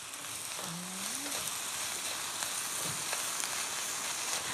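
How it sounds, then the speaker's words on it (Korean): Eggplant and meat stir-fry in a pan with rice flour, giving a soft, steady frying hiss, fairly faint, with a few light scrapes and a brief squeak near the start. "쌀가루를 미리 넣어서 이렇게 좀 볶아주세요"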